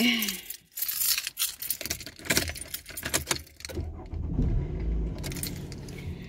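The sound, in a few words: car keys jangling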